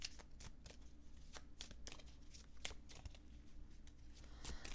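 Oracle cards shuffled by hand give a close, quiet series of crisp riffling snaps and flutters, irregularly spaced over a soft background.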